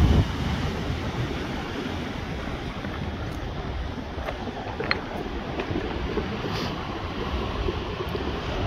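Ocean waves at the rocky California coast, a steady broad wash of surf mixed with wind buffeting the microphone, loud and continuous for the full stretch, with no talk.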